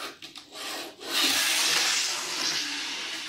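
Hornby model railway wagon with metal axles rolling along track, giving a steady close-up rubbing, rushing roll that swells after a second and runs on continuously without any talk.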